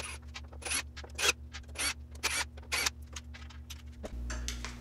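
A Phillips screwdriver takes the screws out of the front panel of a Predator 3500 generator, giving a run of close, scratchy clicks and rubs over a steady low hum that changes pitch near the end.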